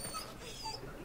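A dog whimpering in Dragon Age: Origins: a faint, brief whine over a steady game background of wind and ambience, with no talk.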